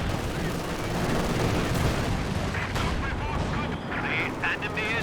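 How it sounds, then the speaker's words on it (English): Flame barrage artillery pounds away in a World War II real-time strategy game, a loud, continuous roar of bursting shells and gunfire with heavy rumbling, while a commentator's voice runs underneath. "Fire off flame barrage here."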